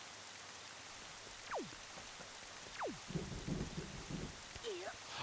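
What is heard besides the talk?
rain falling in Zelda: The Wind Waker video game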